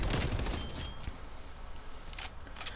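Automatic MP5 fire in Call of Duty: Cold War, a dense rattling burst loud at the start, then fading into scattered clatter and a couple of shorter bursts, no talk.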